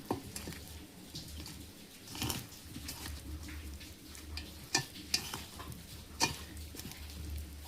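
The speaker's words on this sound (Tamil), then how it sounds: "இது எல்லாத்தையும் நம்ம நல்லா பிசைஞ்சு எடுத்துக்கலாம்" Taro root, part-boiled, peeled and cut, being mixed and kneaded by hand with ginger-garlic paste and salt for a taro fry, giving soft wet squelches and scattered sharper clicks against a low steady background.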